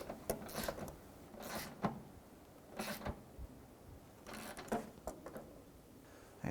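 Lower bolts on a 2004-2009 Dodge Durango bumper being snugged down, heard as quiet, intermittent ratcheting clicks in short bursts close by, with no talk.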